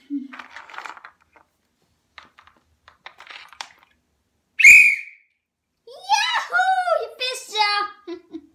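A single clear whistle sounds mid-clip, bright and fairly close, standing alone between bursts of a child's speech and quiet chatter.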